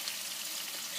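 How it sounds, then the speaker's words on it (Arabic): Tomatoes fry in oil for Tunisian tastira, a steady, close sizzle that holds even throughout the brief moment. "نقلي طماطم كيف كيف"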